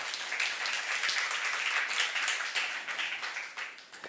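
A church congregation at a Saturday youth worship service claps together in praise, a dense, steady roar of applause filling the room without a break.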